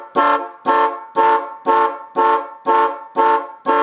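Four-note electric horn alarm clock going off, blaring a loud, harsh buzzy tone in eight evenly spaced bursts, each about a third of a second long with short gaps, close up with no talking.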